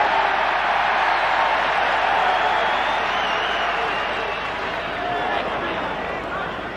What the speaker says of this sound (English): Alan Langer getting a very generous round of applause there from the Adelaide crowd.